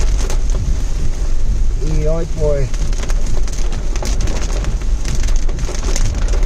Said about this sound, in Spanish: nos ha sorprendido esta lluvia. Está lloviendo de temprano, mi gente, pero ahora fue que apretó de verdad.